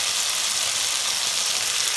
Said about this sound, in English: So I can hear that sizzle.